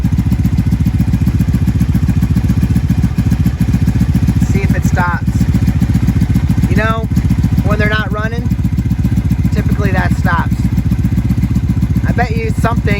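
A wrecked 1997 Honda Magna VF750C that is leaking gas runs steadily nearby, its loud, even, rapid engine pulse continuing for the whole stretch while someone talks over it briefly.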